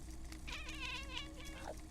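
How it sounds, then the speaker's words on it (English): A cat meows a few times in a quiet indoor room, its wavering, rising and falling calls close and clear over a low steady hum. "Oh, the cat is here."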